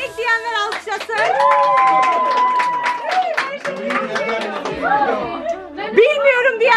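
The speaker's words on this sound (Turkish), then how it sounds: "Erkek diyenler alkışlasın" Guests at a gender reveal party clap and cheer together, a dense, steady burst of hands and excited voices running the whole way through.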